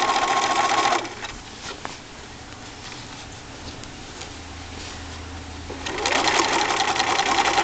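Sewing machine stitching a miniature elastic-waisted skirt, running in fast steady bursts at the start and end with a quieter pause in between, close and alone.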